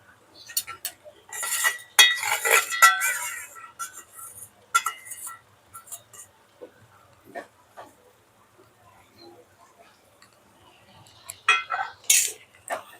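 Prawns go into a pan of curry masala, giving clinks and scrapes of a utensil against metal. The sounds come in short bursts separated by quiet gaps, and faint bits of talk are heard.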